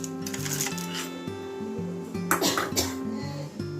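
Salted fried peanuts tumble into a pan of sabudana fry with a rattling clatter of nuts and light scraping of a spoon against metal, over a background of soft instrumental music.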